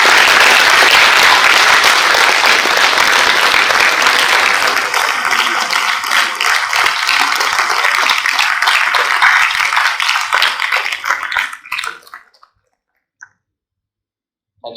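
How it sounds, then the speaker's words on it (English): Audience at the Indian Steel Conference 2024 breaks into loud, dense applause that carries on for about ten seconds, thins into scattered claps and fades to silence, with one faint clap at the very end. "I request our audience to please give them a big applause for their work."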